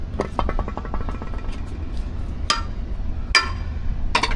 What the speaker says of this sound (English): you just pop it with your hammer, make sure it's loose